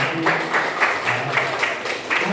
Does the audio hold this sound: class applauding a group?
yes